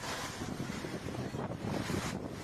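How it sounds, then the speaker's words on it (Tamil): Strong wind with heavy rain during a storm in Sriperumbudur, Kanchipuram district, a dense, loud, continuous roar and hiss with gusting buffets against the microphone. "கடுமையான காற்றுடன் சூறாவளி காற்றுடன் மழை பெய்து வருவதாக"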